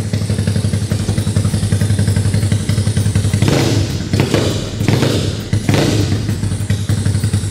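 Modified Yamaha Fino scooter with a 200cc engine, still cold, idling loud and lumpy with a steady rapid pulse, then revved in a few short throttle blips before settling back to idle, close up.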